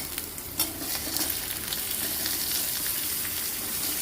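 Bottle gourd pieces tipped into a pan of frying onion and ginger-garlic paste, giving a loud clatter as they land, then a dense, continuous close sizzle with light stirring scrapes.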